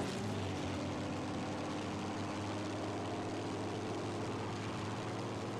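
A propeller-driven fixed-wing aircraft, such as a Spitfire in a flight game, drones steadily from start to finish with a low constant engine hum and broadband roar, with no voices.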